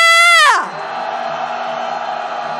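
Protesters at a candlelight rally let out a big collective shout, starting with a loud sustained cry that drops sharply and then settles into a lower, continuing roar from the crowd.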